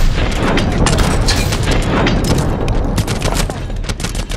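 Heavy gunfire in the Call of Duty: Advanced Warfare video game, a loud, dense barrage of shots and booms that keeps up steadily throughout, close and continuous.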